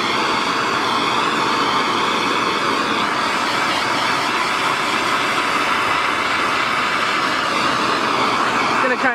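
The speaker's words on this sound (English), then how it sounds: "I'm gonna use a map gas torch here, the yellow one, not the blue one" A MAP gas torch flame roars steadily against an aluminum tank on a Woodland Mills HM126 bandsaw mill during brazing repair, a loud, continuous close-up hiss without pause.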